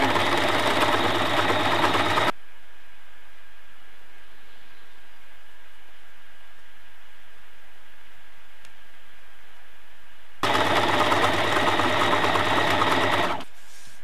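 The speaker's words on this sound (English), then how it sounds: "So I'm going to sew a bar tack here." Sewing machine stitching a bar tack on a bralette strap runs loud and close in two bursts, a short one at the start and a longer one near the end, with near silence between.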